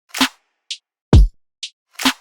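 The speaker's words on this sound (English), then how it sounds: "I use a little shifted clap that sounds like this" A shifted clap sample from the Cashmere pack sounds as a few sharp, dry snaps, with brief higher ticks between them, spaced evenly and heard alone.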